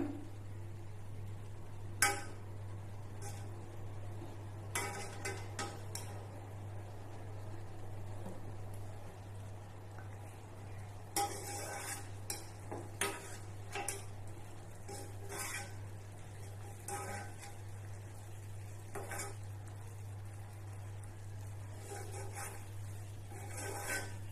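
A spoon scrapes and clinks in a pan of boiling sugar syrup while skimming off foam: faint, scattered rasping strokes over a steady low hum, with a few sharper taps.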